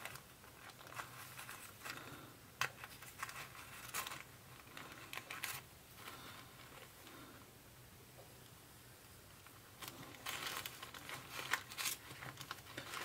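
Scissors snip through a thin paper napkin around a painted area for a decoupage garden rock, giving soft crinkling and rustling with irregular small cuts and paper handling close by.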